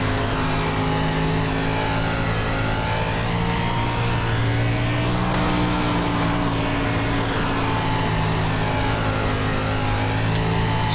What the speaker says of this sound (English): the engine sound looks way too loud right now